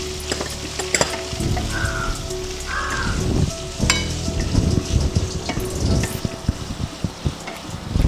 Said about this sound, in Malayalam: ചെറുതായിട്ടൊന്ന് വാടുന്ന വരെ ഇളക്കാം.